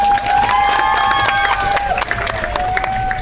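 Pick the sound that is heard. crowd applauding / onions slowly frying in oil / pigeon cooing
crowd applauding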